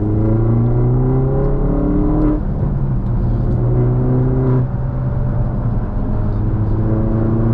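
A Mini Cooper S engine drones steadily from inside the car on the Clarence Drive mountain pass, its pitch rising and falling with two audible gear changes, close and loud throughout with no talking.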